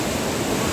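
A powerful river rushes along a Himalayan pilgrimage route, a dense, loud, unbroken roar of fast water.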